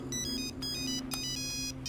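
A phone ringtone plays steadily: a bright, repeating electronic melody with a constant low hum underneath, fairly close and clear.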